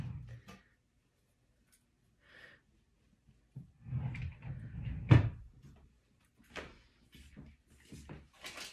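Soft wooden knocks and slides from a drawer or cupboard being opened and closed while baby clothes are sorted, with one sharper thump midway, scattered quiet handling noises around it, and no talk.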